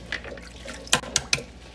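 Running water pouring into a pot of freshly boiled eggs to cool them, a soft close trickle with a few sharper splashing bursts.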